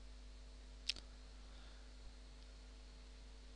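Single mouse click on a Finish button, one crisp close click followed by a faint tick, over quiet hum.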